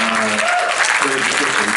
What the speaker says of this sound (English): just give a round of applause to Sean Farquhar, the two-time world champion of magic.